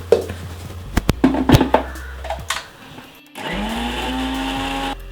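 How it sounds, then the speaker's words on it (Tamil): Clattering and clicking give way to a mixer grinder whirring loudly and steadily as it starts blending hibiscus flowers, continuing to the end. "செம்பருத்தி பூவை மிக்ஸி ஜாரில் போட்டுடலாம்."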